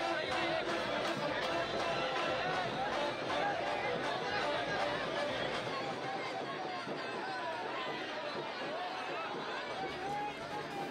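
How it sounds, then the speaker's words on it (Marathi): Party workers celebrating loudly on a street after a Lok Sabha election win, a dense, continuous crowd roar of cheering and chatter with many voices overlapping throughout. "कार्यकर्ते रस्त्यावरती उतरलेले आहेत आणि आपला जल्लोष, आपला आनंद रस्त्यावरती साजरा करताना आपल्याला बघायला मिळतो"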